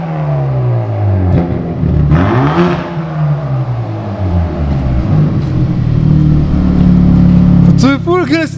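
A car engine revs up and down in rising and falling sweeps, loud and close, while people talk over it; a sharper whine of higher revs appears near the end.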